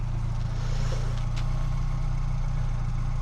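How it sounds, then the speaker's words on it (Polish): The small petrol engine of a 1999 Fiat Seicento idles steadily up close, a low, even rumble that runs throughout with no other sounds. "jaki dźwięk silnika"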